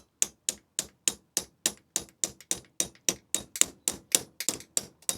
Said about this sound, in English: And then you take the hammer and you tap it.